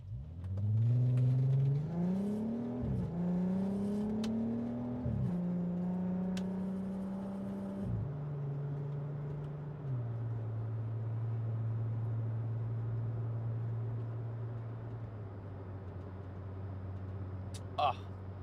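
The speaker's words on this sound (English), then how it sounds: "Oh, this car sounds so good." A car's engine hums steadily while driving, with the pitch stepping up through each gear, then settling into a low, even drone at cruising speed. A loud, near, continuous sound with no talk over it.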